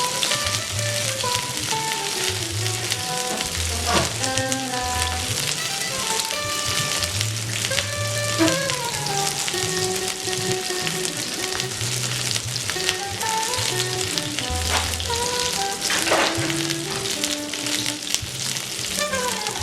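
Eggplant sizzles in a pan while roasting to brown and crisp, a loud continuous crackle under steady music with no talking.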